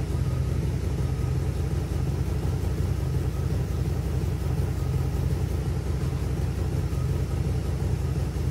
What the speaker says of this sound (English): Got an exhaust leak on this side.